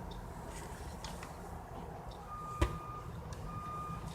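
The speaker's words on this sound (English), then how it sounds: "then Tommy hears this backing up sound" Steady high-pitched beeps of a truck backing up, repeating at a regular pace over low engine rumble, with one brief thump midway.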